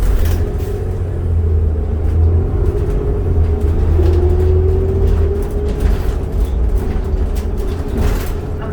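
Inside a 2008 New Flyer D40LFR diesel bus in service on the Killarney/17 Ave SW route: a steady, loud low engine drone with road rumble, rising slightly in pitch as it pulls away, with faint rattles.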